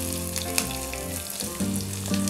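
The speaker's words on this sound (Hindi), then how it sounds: "हरी मिर्च को भी हम चलाते हुए भून लेंगे।" Chopped green chillies sizzle and crackle in hot oil with ginger and garlic as they are stirred in a pan, a steady close frying hiss with light scraping, no voices.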